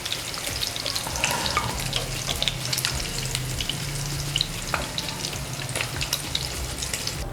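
Eggs frying in a pan for a dhaba-style egg masala, a continuous close crackling sizzle with occasional pops and faint stirring, no voices.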